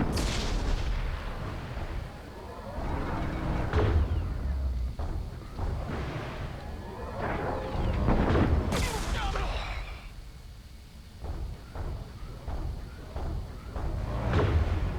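Gunfire and heavy booming explosions from the Mass Effect 2 video game roll through dense battle noise, with repeated sharp blasts and rumbling impacts over the full stretch.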